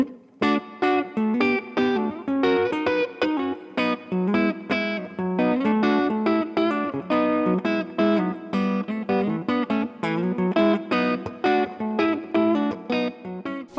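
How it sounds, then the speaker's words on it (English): Electric guitar playing a steady run of notes through a Vox AC30 OneTwelve amp, washed in airy digital reverb, loud and continuous with no talking. "Clean up and try a little reverb."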